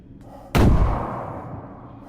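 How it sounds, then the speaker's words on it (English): A grenade goes off in Crimson Desert: after a faint click, one sudden loud boom with a heavy low-end punch, then a long rumbling tail that slowly fades. "Grenade."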